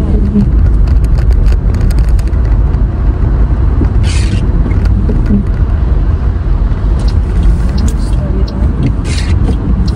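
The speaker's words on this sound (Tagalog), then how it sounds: "Traffic na po tayo." Road traffic in England rumbles on continuously around a slow-moving vehicle, with low engine drone, passing cars and occasional hissing bursts, while someone talks over it.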